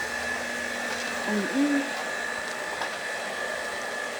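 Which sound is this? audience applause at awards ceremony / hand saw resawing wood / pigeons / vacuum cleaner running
vacuum cleaner running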